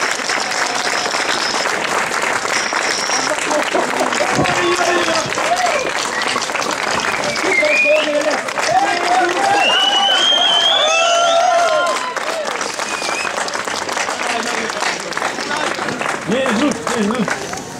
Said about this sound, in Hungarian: Szerintem köszöntjük őket egy tapssal.